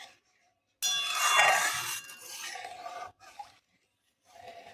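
Watermelon juice thickened with cornflour is stirred in a kadai, giving a loud scraping and rubbing against the pan for about two seconds, then softer intermittent scrapes with short pauses.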